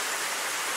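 Brief, unbroken wash of heavy rain pouring down in the video game Steins;Gate 0, a constant full hiss with no talking.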